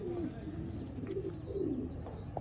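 Soft, low pigeon cooing repeats in a steady rolling rhythm, close by, with a constant background hum.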